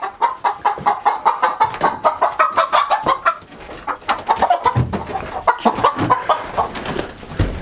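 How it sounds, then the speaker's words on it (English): Homestead chickens clucking steadily and close, with a fast rhythmic series of loud clucks at the start, then busier, overlapping squawks and clucking from the flock. "You can kill that noisy chicken is the first thing you can do."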